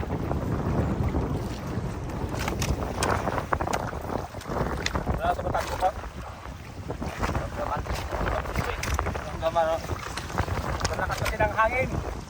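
Strong wind buffets a small boat out at sea, a steady roaring gust on the microphone with water sloshing beneath, while voices talk intermittently over it.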